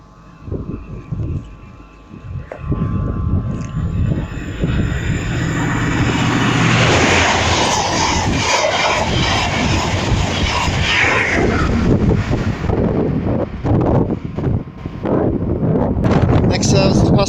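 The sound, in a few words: LNER HST passenger train passing through station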